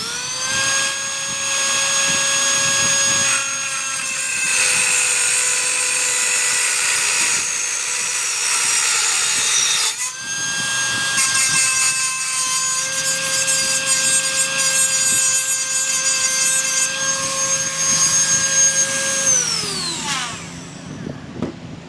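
A driveshaft tube being cut off, with a loud, steady high-pitched grinding whine that runs for about ten seconds, pauses briefly, resumes, then winds down near the end.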